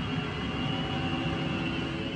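A loud kitchen exhaust fan in a mountain home runs at a steady pitch, a constant whooshing roar with a faint tonal hum and no change or pauses.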